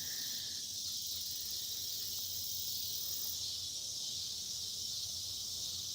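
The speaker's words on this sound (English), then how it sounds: "The cicadas are louder, but I think the connection will be better up here." Loud, steady cicada drone fills a rural homestead setting, a dense continuous buzz that holds unbroken for the whole stretch with no pauses or pulses.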